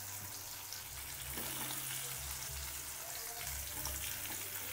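Onions fry in oil for Hyderabadi egg dum biryani, making a low, steady sizzle and hiss with faint intermittent low hums underneath, quiet and continuous with no speech.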